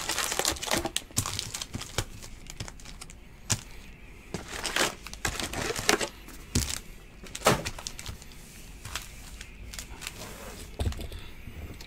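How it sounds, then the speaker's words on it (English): 2018 Donruss football trading card packs torn open and handled, a steady run of close crinkling foil, ripping and card shuffling with frequent sharp snaps throughout, no voices. "I'm going to take all the cards out the pack"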